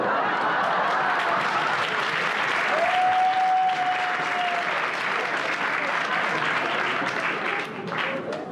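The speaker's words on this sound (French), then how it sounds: "Je le dirai à des proches que vous l'avez applaudi" Dense, sustained applause from a comedy-show audience fills the room at steady loudness, with a faint sustained tone briefly heard over it, before easing slightly near the end.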